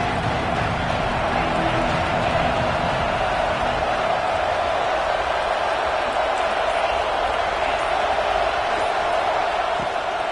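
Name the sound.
football stadium crowd cheering before a third down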